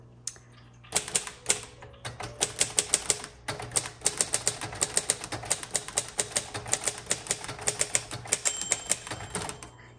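Rapid keystrokes on a 1957 Royal Quiet Deluxe typewriter clack in an uneven rhythm, close and crisp, with a small bell ding near the end.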